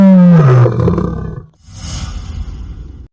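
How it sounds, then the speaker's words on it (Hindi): A lion's loud roar booms out and then comes back from a well as a second, noisier and more diffuse echoing roar, both heard without any talking. "कुएं में उसकी ही आवाज गूंजकर वापस आई।"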